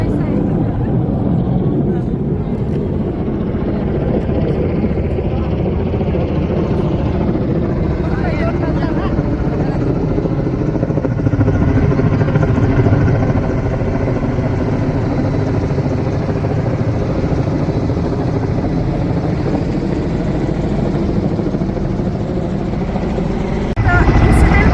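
Helicopter engine and rotor droning steadily and loudly from close by for the whole stretch, a dense broadband roar with continuous low thrum, while people talk over it.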